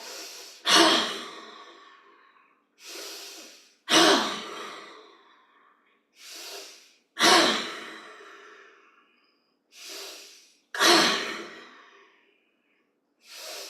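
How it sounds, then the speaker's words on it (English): Forceful bellows breathing during a yoga session: five sharp, loud nasal breaths, each a sudden burst trailing off into silence, spaced evenly a few seconds apart. "we're going to do 5 of our bellows breaths"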